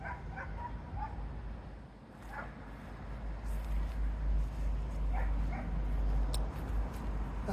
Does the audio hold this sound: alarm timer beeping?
no